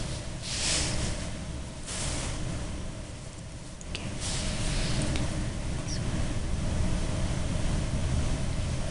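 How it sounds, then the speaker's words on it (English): Strong wind blowing outside, a steady broadband roar that swells and gusts throughout, heard from indoors with no talking. "Holy crap, that wind outside. It's just crazy."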